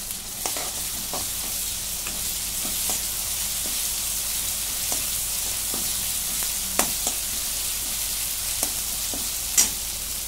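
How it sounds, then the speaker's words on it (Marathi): Ginger garlic paste fries with browned onion in a pan for shahi paneer gravy, a continuous soft sizzle with occasional sharp pops and spoon scrapes, close and steady with no talking. "त्याच्यात 1 चमचा आलं लसूणची पेस्ट टाकून घेते. भाजून घेते."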